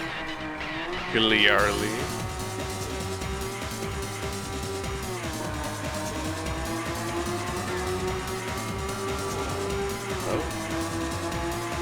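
A race car in the Rage Racer video game roars with a steady, droning engine note. Tires squeal sharply near the start and the engine pitch shifts as it drives on, while a person talks over the game.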